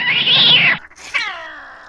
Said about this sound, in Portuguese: Você já imaginou um gato num teto de zinco, brigando com outro gato